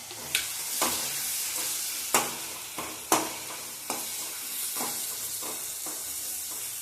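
Tomatoes with ginger, shallots and garlic sautéing in a pan with a little salt, giving a steady sizzling hiss broken by several sharp spatula scrapes and taps in uneven rhythm.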